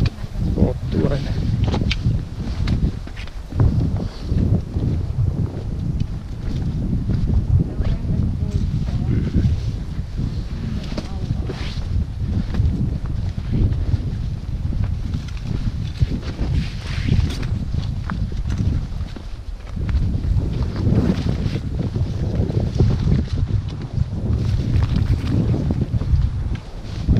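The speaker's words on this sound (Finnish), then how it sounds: "ei tää tuuli niin kovaa" Wind gusts through a Finnish recreation forest, buffeting the microphone with rough, uneven low rumbles that rise and fall throughout, while people talk now and then.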